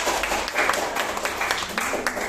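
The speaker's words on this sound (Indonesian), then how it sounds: "Tepuk tangan buat Anda semua" Seminar attendees at a business event clap together in a steady, dense round of applause filling the room for a couple of seconds.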